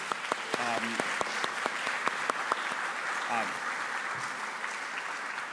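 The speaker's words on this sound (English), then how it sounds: "let's give a round of applause to all the sponsors" A conference audience applauds for sponsors, a broad wash of clapping with a few louder individual claps standing out, while a voice speaks briefly over it.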